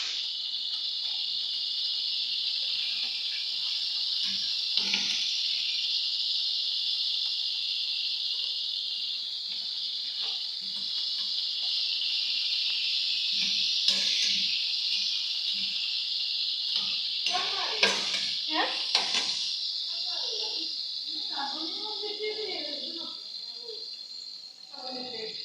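Green chillies fry in masala in a pan over a low flame, giving a steady bright sizzle and hiss that carries through the whole stretch, with occasional clatter from stirring and a voice talking over it near the end.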